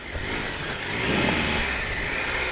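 Off-road motorcycle engine held under steady power on a muddy woodland trail ride at Bucklebury, a continuous close droning roar that swells slightly midway, with no talk.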